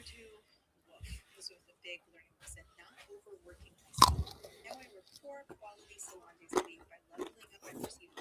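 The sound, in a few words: crunchy chewing of crispy pork belly skin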